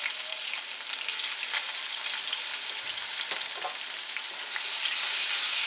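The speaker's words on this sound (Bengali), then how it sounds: "পেঁয়াজটা একটু ফ্রাই করে নিচ্ছি।" Chopped onion frying in a pan with whole dried chillies, garam masala and cumin makes a steady, loud, close sizzling hiss, with faint crackles and occasional stirring touches and no talking throughout.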